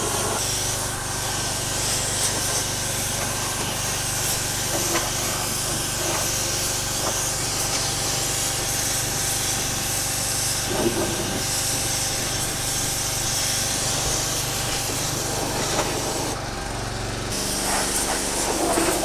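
Steady, loud hiss of a pressure washer spraying continuously onto a transmission in a shop, with a running engine underneath and brief changes as the spray hits surfaces.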